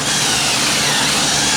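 A power drill bores pocket-screw holes into wood on a homestead, whirring loud and close in one continuous high-speed run.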